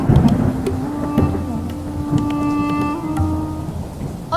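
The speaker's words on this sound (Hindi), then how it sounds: "बाहर बहुत ज्यादा भारी मूसलाधार बारिश भी लगी हुई है" Heavy torrential rain pours steadily outdoors with a low, continuous thunder rumble underneath, loud and close, with some faint tonal ringing running through the downpour.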